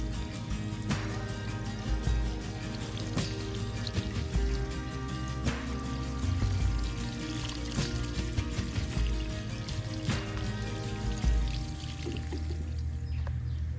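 Water mixed with water-soluble fertilizer pours and trickles into a garden container on a quiet July morning, a soft continuous stream with faint drips and rustles, close and low in level throughout.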